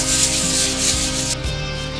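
Continuous abrasive rubbing of sandpaper shapes the fiberglass nose repair of a surfboard, a close, steady scratchy hiss with slight shifts in stroke and no talking.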